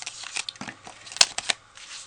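Paper for a Halloween card is run through a die cutting machine, giving a short run of dry crinkling, rustling handling noises with a few sharper clicks, close and quiet.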